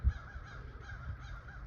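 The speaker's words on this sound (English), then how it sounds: "the crows are calling my name" Crows cawing in the distance, a few faint repeated harsh calls over quiet low background rumble.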